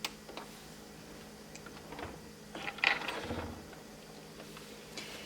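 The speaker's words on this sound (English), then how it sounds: "All this is just a machine preparing to sew." A Brother SE 1900 sewing machine whirs and clicks through its start-up routine, with soft mechanical ticks and a brief louder burst of gear movement midway, close and fairly quiet, with no talk.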